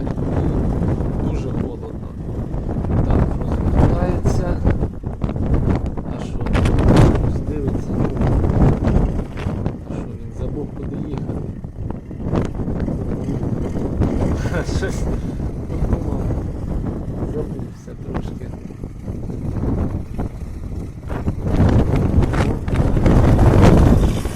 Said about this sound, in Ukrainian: а вітер дує, ну ви чуєте.